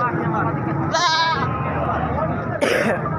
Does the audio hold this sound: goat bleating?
yes